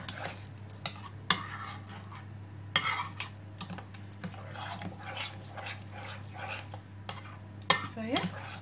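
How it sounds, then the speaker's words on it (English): A quiche mixture is stirred in a bowl, with scattered clinks and scraping taps of a utensil against the bowl over a low steady hum, close and fairly quiet. "Mix, mix, mix."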